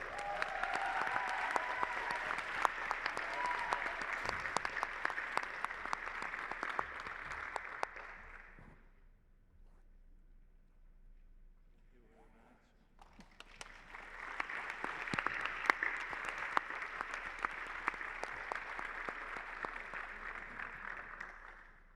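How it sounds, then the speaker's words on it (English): An audience at a dental hygienist awards ceremony gives two bursts of sustained applause for winners, the clapping dying away to a quiet lull before swelling again just as strongly. "Big applause."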